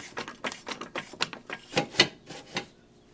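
A drain plug on a Hyundai Elantra radiator is worked loose, producing a close series of irregular ratcheting clicks and plastic creaks with uneven pauses between them.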